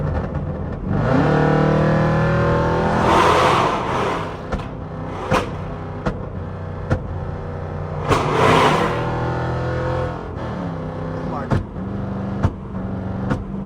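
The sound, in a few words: Jeep 5.7 Summit engine revving with exhaust flames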